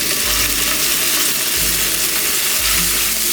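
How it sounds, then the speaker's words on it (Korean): Minced garlic stir-fries in oil in a pan over high heat for summer dumpling filling, making a loud, dense, continuous sizzle that stays close and even throughout, with no voices. "다시 팬을 강불에 올리고 식용유, 다진 마늘을 넣고 볶아주세요"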